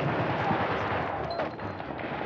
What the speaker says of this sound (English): we're taking rocket and mortar fire at this time